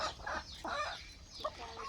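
Free-range country hens on a farm cluck nearby in several short, agitated bursts around egg-laying, with a few higher squawks mixed in.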